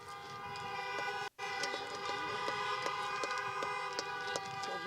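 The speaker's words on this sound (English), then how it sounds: "Mr. Figge and I had a bet on how many times we could get people to honk their horns" Car horns at a drive-in high school graduation honk in a long sustained chorus, with repeated short toots pulsing over it at a steady rhythm from a moderate distance, broken by one brief gap.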